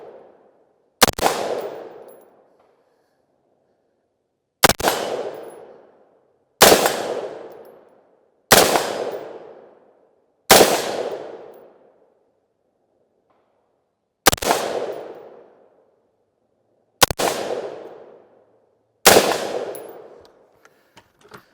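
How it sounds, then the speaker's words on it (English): An FN SCAR 16S rifle fires eight single shots at irregular intervals outdoors, each a sharp, loud crack with a ringing echo that dies away before the next. "as soon as I picked this thing up and I shot it, the recoil on this, it's a little bit more harsh"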